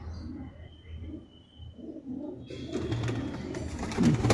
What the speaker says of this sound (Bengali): এটা আমার বাড়ির ওড়ানো পায়রা